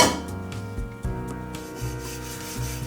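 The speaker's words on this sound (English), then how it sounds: "Now we're trying to roll it out to about a rectangle shape to where the dough is 1/4 inch thick." A rolling pin works cinnamon roll dough flat on a silicone mat. The strokes come as repeated soft rubbing and thumping passes, close and fairly quiet, with no one talking.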